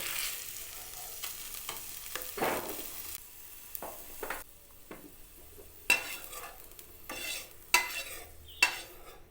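Potato and eggplant fry in oil in a wok, a soft sizzle broken by a series of sharp scraping and stirring strokes from a spatula, close and without any talking.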